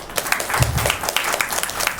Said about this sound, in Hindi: भाई काला जी के लिए भी जोरदार तालियां हो रही हैं